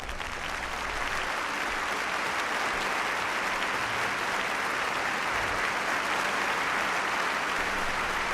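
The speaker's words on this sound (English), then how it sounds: "give a big round of applause to Trump Vader" A big audience round of applause roars steadily for the whole stretch, dense, loud and continuous clapping without a break.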